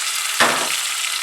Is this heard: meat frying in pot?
yes